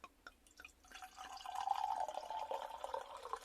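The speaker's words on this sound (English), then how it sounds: "Let's pour it out." Gilly Foxwhelp cider from Ross-on-Wye, 2020, poured from a bottle into a glass: a few faint clinks and drips, then a soft, steady stream filling the glass close by, with no talking.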